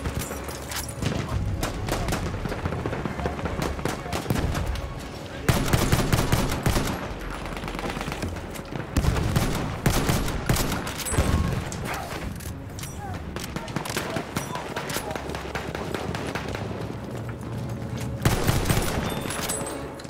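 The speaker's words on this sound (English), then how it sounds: "Wait for the enemy artillery barrage to stop firing." Enemy artillery barrage in Battlefield 1 Rush mode: relentless bursts of gunfire and heavy booming impacts pound on and off throughout, loud and close, with a few faint voices under the din.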